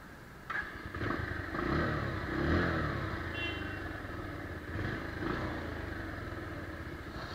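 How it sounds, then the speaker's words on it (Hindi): A new 2018 Bajaj Pulsar 150 Twin Disc motorcycle idling with a couple of brief revs, the exhaust rising and falling; some clatter, fairly quiet and steady. "एग्जॉस्ट साउंड भी एकदम सही है"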